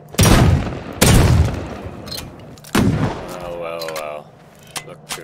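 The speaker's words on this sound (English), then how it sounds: "He's in there shooting people." Three loud, sharp gunshots crack close by at uneven intervals in the Rust survival video game, each leaving a short ringing tail, with a voice talking briefly after the last shot.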